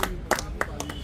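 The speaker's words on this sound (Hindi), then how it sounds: "ताली तो बजा दो।" Several sharp claps land in quick succession, a few hand claps from people gathered on a staircase at an outdoor community event, heard close with faint background murmur.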